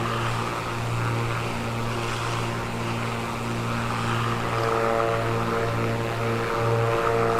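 Propeller airplane engine in Microsoft Flight Simulator 2024, a steady droning hum with a constant low tone that holds evenly throughout, with no talking.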